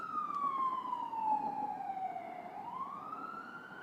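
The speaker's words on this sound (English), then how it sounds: "I'll let the siren pass." A single police siren wails steadily in New Orleans, its pitch slowly falling and then rising again as it passes at moderate distance, with no voices.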